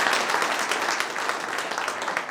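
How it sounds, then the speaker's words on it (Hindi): Audience applause fills a company anniversary meeting for a real estate firm, a dense, steady wash of clapping from many hands that stays loud throughout. "सर ये बहुत बड़ी उपलब्धि है, इसके लिए भी ताली होनी चाहिए।"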